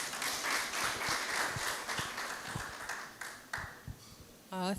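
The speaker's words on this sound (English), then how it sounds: "So can we welcome the DVC AFP, please, with a round of applause." An audience at a university student association inauguration ceremony claps in a steady, dense round of applause that fills most of the moment, then fades near the end.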